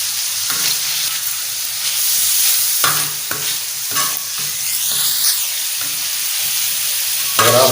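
Ginger garlic paste fries on a tawa with mutton liver, giving a loud, continuous hiss and sizzle and a few soft stirring scrapes close up.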